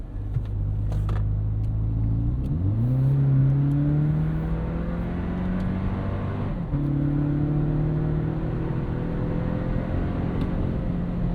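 A 2025 Toyota 4Runner TRD Pro turbo hybrid accelerates hard, its engine note rising in pitch, dropping at a shift and climbing again as a steady loud droning whir.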